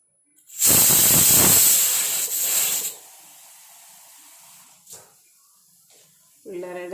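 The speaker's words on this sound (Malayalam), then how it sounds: "കഞ്ഞിക്ക് വിസിൽ വന്നിട്ടുണ്ട്" A pressure cooker with rice gruel lets out a loud, close blast of whistling, hissing steam for about two seconds, then settles into a faint steady hiss, with a brief voice near the end.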